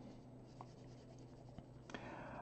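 Pencil shading on paper, darkening one edge of a drawing: faint, soft graphite scratches come in brief strokes, with a couple of slightly firmer scrapes near the end, close and quiet.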